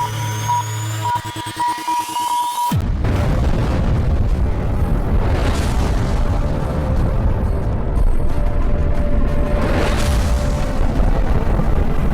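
Atomic bomb explosion sound effect: after a sharp cut, a deep, sustained roaring rumble builds and rolls on, loud and dense with low booming swells.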